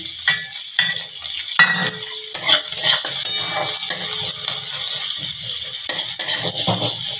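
Chopped onion and green chili frying and being stirred in a pan for semolina upma, with metallic spoon scrapes and clinks over a steady close sizzle throughout.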